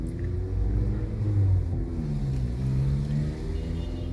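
Street traffic on Gilmore Street in Quezon City, Manila, rumbles as a continuous low drone of engines, a nearby vehicle revving and idling in slow-moving flow, with no voices.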